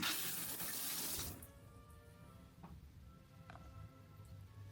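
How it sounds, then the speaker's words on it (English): Shower water runs in a Tokyo hotel bathroom as a loud, close hiss of spray that cuts off abruptly after a second or so, leaving quiet room tone with a few faint clicks. "Nothing like a hot shower after a long day."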